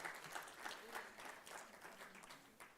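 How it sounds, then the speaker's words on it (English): Faint applause from an audience at a college media conclave event, scattered clapping heard at a distance for a couple of seconds, soft and diffuse with no one speaking. "So a big round of applause to the social media team."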